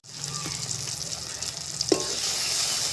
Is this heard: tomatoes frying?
yes